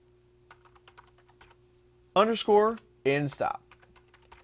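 Light, scattered clicks from typing on a computer keyboard, with a short spoken phrase in the middle; the soft keystrokes continue faintly on both sides of the speech.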